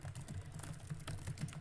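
Fast, close keystrokes clatter on a computer keyboard during a speed-typing race, a rapid uneven burst of clicks with no talking.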